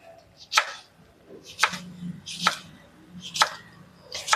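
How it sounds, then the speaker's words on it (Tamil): A knife chops vegetables into cubes on a cutting board, five crisp, evenly spaced strikes about a second apart, close and clear with faint background noise between them. "இது எப்படி க்யூப்ஸாக கட் பண்ணுறது அப்படின்னு பார்ப்போம்."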